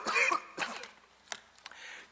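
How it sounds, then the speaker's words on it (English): A man coughs and clears his throat mid-lecture, a few rough bursts close to the microphone followed by fainter hacks and quiet breathing. "I inherited a cough last week, and I see it's deciding now to reappear at this timely moment"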